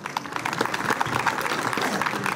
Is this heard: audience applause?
yes